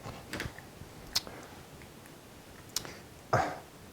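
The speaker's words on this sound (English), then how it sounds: "Excuse when I'm clearing my throat" A man with flu clears his throat once, close and fairly quiet, amid faint ticking and small clicks in a quiet room.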